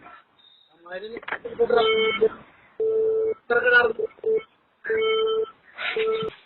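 A telephone call is cut off: after a few moments of voice, a disconnect tone repeats as a series of steady, evenly spaced beeps with short silent gaps.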